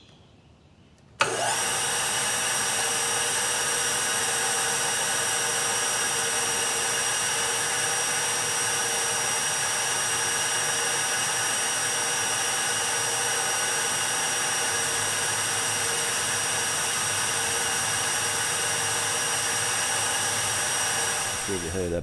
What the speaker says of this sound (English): I'm gonna zero out my quill DRO, bring it over, and I'm gonna take like half of that bolt head off